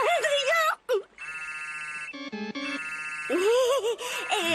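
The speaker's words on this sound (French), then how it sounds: "c'est Adrien qui m'appelle sur mon portable" A mobile phone rings with a melodic ringtone of sustained electronic tones, loud and near, heard in an animated French scene with speech before and after it.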